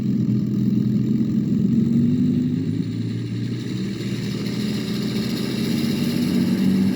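A Real Sound V4.1RC sound system simulates a Merlin aircraft engine, producing a loud, continuous droning hum that holds steady and unbroken throughout, heard alone without any voices.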